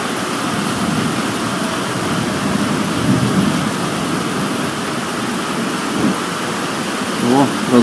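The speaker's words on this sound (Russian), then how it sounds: "Молнии прям в землю бьют." Heavy rain roars steadily with a low rumble of thunder beneath it, dense and continuous throughout, during a thunderstorm with lightning striking the ground.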